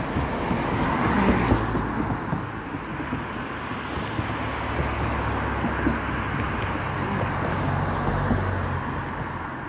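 Steady roar of busy city road traffic near a bus stop, with cars passing continuously in a dense wash of engine and tyre noise, some wind buffeting, no clear breaks.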